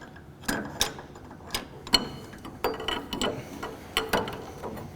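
Ratcheting clicks and metallic clunks from loosening a sprocket lock nut while an oil filter wrench holds the sprocket, a handful of sharp close bursts spaced about a second apart, with no voices.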